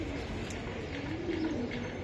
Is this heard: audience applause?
no